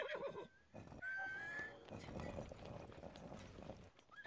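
A horse whinnies in Zelda: Breath of the Wild, a rising squeal near the start, followed by a longer stretch of busy game sound effects; the level is fairly quiet overall.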